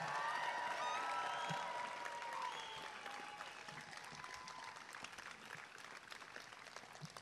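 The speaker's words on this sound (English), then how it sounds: "Audience, please join me in one more round of applause for all of these candidates and their" Applause from a large audience at a spring commencement ceremony, a dense continuous roll of clapping with faint cheering, steady at first and slowly fading, heard at a distance in a big hall.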